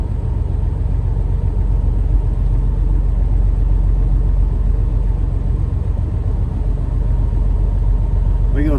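A Freightliner truck engine, derated by 25% with an emissions fault, runs in a steady, loud, close low rumble without pause.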